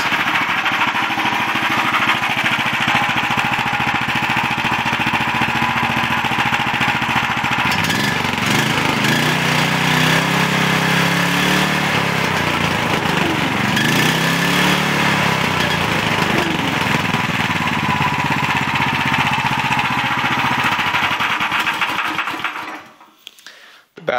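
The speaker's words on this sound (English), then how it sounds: "if you want to hear the motor run, I don't have the battery hooked up, so I have to pull start it" A go-kart engine runs steadily after being pull started, a loud continuous buzzing drone with shifting tone through the middle that cuts off at the end.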